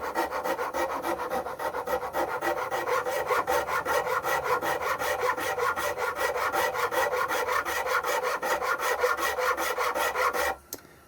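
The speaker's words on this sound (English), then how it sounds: "File that flat across." Filing the flat across a maple neck for a three-string cigar box guitar, with steady, rapid back-and-forth rasping strokes close up for about ten seconds before they stop abruptly.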